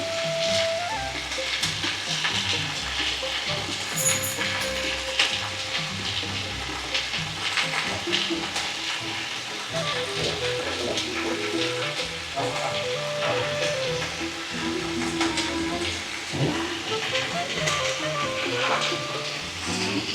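Bitter gourd (ampalaya) hitting a hot pan and sizzling loudly, a steady dense frying hiss with some stirring clatter that continues throughout without talk.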